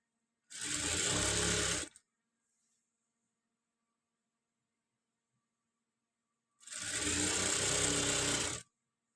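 A sewing machine stitches along the edge of a folded saree in two loud, steady runs of about a second and a half each, separated by a long silence.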